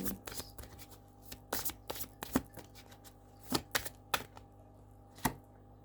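Cards shuffled by hand for a reading, a close, quiet series of crisp riffling bursts and taps in an irregular rhythm separated by short silent gaps.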